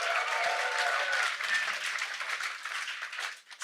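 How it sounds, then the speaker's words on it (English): An audience at a live evening show at the Crocodile applauds steadily and densely for several seconds, sounding full but somewhat distant, with scattered cheers. "Please give yourselves a round of applause for coming out tonight."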